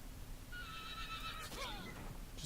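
An injured horse in the video game Hunt: Showdown whinnies once. The long, shrill neigh wavers and then drops in pitch, rising clearly above a constant low ambient hum.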